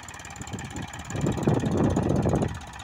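A 42 hp tractor engine labours in third gear while hauling a roughly 50-quintal trolley of sugarcane through a field, giving a steady low rumble that builds louder midway and holds under strain.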